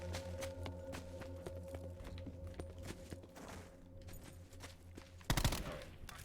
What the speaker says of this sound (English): It's another burst fire gun.